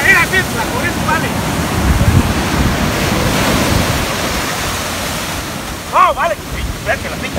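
Constant roar of sea waves and surf at a beach, with wind buffeting the microphone, while voices shout and talk over the water.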